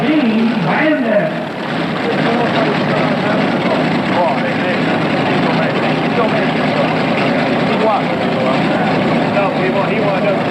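At an indoor tractor and truck pull at the Erie Civic Center, a pulling vehicle with twin 510 cubic inch Rodex engines drones with a steady, loud roar that fills the hall, with announcer speech over it.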